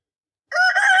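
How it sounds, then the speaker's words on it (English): A backyard rooster crows once, loud and close, a harmonic call that starts abruptly after half a second of silence and is cut off at the end. "while I'm out here dealing with the noisy roosters"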